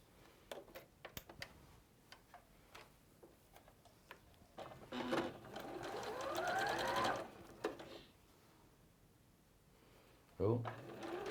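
A domestic sewing machine stitches sashing onto a quilt block at a quarter-inch seam, running in a steady buzzing whir for a few seconds between quiet clicks and handling, with someone talking around it.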